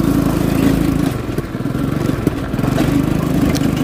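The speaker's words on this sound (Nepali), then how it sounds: "गाडी आउँछ बाबु" Small engine running steadily on a newly built rural road in Nepal, a continuous close drone with a slight dip in the middle, no talk.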